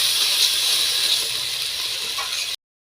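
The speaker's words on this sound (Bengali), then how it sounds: "তো এই তেলের মধ্যে এখন দিয়ে দেবে আদা রসুন একসঙ্গে বেটে নিয়েছিল সেই আদা রসুন পেস্টটা দিয়ে ভালোভাবে একটু নাড়াচাড়া দিয়ে দিচ্ছে" Ginger garlic paste frying in hot oil in a pan while being stirred, a loud steady hiss that fills the whole clip and then cuts off abruptly.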